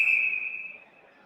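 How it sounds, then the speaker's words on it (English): A referee's whistle at a college ice hockey game, Indiana against Xavier, shrills as one sustained, piercing blast that tapers off over about a second, with faint arena noise underneath. "now a whistle blown by the official in the corner"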